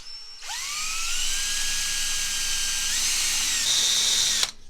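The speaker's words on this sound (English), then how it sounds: "I'm going to try to drill a hole right in here." A power drill whines steadily for about four seconds while drilling a hole in an old kids' stroller, its pitch rising as it spins up and shifting slightly as it bites, then cutting off abruptly.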